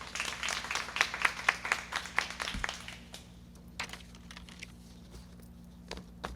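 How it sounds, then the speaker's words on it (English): An audience at the 2020 Anthony Rossi moving up ceremony claps in a dense burst of applause that thins out after about three seconds, leaving a few scattered, quieter claps. "So if we could give a huge round of applause for all of our special certificates"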